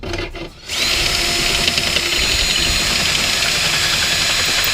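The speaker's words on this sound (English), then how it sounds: "So let's go ahead and drill this out, then we'll match this to line up." A power drill bores into a plastic door handle part to make room for a bolt, starting after a short pause and then whirring loudly and continuously up close.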